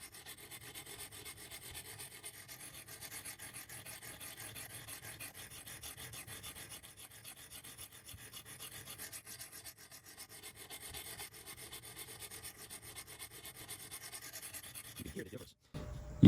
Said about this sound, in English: try to keep nice, smooth, even strokes, and we'll just let the stones do the work